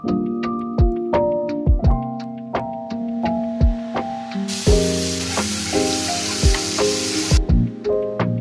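Fish, tomatoes and chillies fry in a pan, a hissing sizzle that swells for a few seconds in the middle beneath steady plucked background music.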